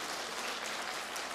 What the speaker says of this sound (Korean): 우리 박수로 다시 한번.